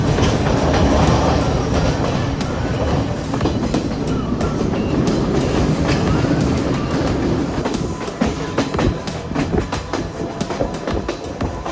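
A passenger train runs through Sri Lanka's upcountry between Badulla and Colombo, with loud, continuous rumbling from inside the carriage, rhythmic clickety-clack of the wheels and occasional metallic squeals.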